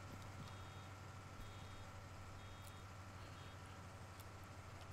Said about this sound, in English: so it beeps till it goes down, and then you're ready to go